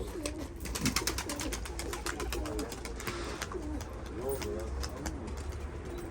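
Soft, low cooing of pigeons repeats steadily through the clip, mixed with faint rustling and background chatter from people nearby.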